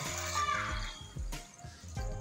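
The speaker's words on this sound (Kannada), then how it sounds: "ಮತ್ತು ನೀರು ಹಾಕ್ತೀನಪ್ಪ" Water is poured onto mixed lentils soaking in a kitchen bowl, giving a brief, close splashing rush followed by a few lighter sloshes.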